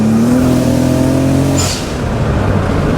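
A BMW N54 engine in an E30 car at high boost hums with a steady, droning engine tone, then dips and roughens as a cylinder misfires.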